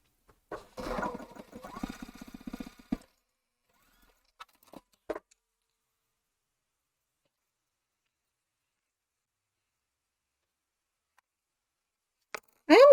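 A sewing machine stitches a quilt block in a close, buzzing burst of about two seconds, followed by a few isolated clicks and then near silence.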